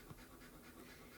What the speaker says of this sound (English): if you hear heavy breathing in the background, that is one of my dogs because we just played fetch.